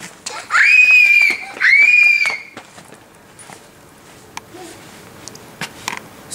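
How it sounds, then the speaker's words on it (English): A person screams twice during a playful Christmas Santa-themed music parody shoot, each a loud, sustained, high-pitched wail of about a second, followed by quieter footsteps and small rustles. "Scream!"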